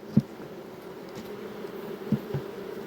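Honeybees hum steadily around a nucleus hive frame, a low continuous drone broken by a couple of brief soft knocks.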